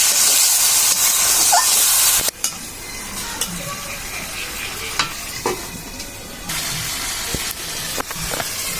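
Shrimp dal masala with dried fish frying in a pan, loud hissing sizzle at first, then quieter crackling as a spoon stirs and scrapes with intermittent clinks, the sizzle swelling again near the end; no one speaks.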